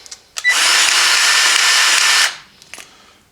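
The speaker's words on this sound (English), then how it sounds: "I have a Milwaukee battery powered grease gun here, so you're going to hear the grease gun" Milwaukee battery-powered grease gun running close up, one steady high motor whine lasting about two seconds, with brief clicks before it starts and after it stops.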